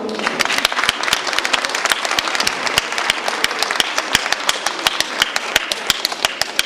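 Children's stage play audience gives rhythmic, sustained applause, sharp individual claps standing out in a steady, fairly close roar of clapping with little talk.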